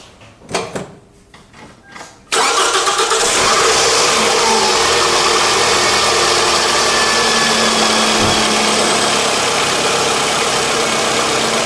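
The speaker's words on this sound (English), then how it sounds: "And next I start this my engine" A Toyota Camry 2.4 VVT-i four-cylinder, from the 2002 to 2010 model years, cranks and starts after a few dull clunks, then settles into a loud, steady idle that continues to the end.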